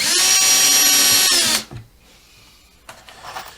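A power drill drives a screw into wood with a loud, close whirring burst for about a second and a half, then stops, leaving quiet handling noises.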